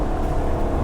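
A Maserati GranTurismo S 4.7 engine accelerating on a wet road, a loud, steady low rumble and whir held at constant strength through the brief moment, with no talk over it.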